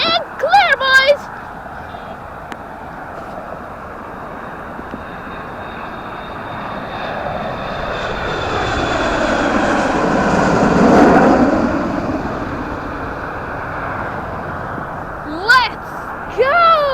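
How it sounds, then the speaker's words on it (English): An MD-11 airliner passes loudly overhead at a plane-spotting site, its jet roar building slowly to a peak and then fading, with people shouting briefly before and after it. "that was the MD-11"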